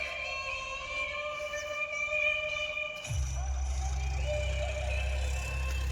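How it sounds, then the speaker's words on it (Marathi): A tractor engine rumbles into a low, steady drone about halfway through and keeps running nearby. Tonal music plays throughout and continues over the engine. "ट्रॅक्टर चालू इकडे"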